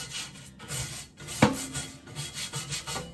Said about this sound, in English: I'm just gonna take my scrub brush and go back and forth